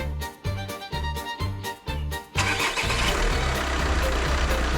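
A 1.9 TDI diesel car engine cranks in several rhythmic bursts, then catches and settles into a loud, steady, rough clattering idle close by.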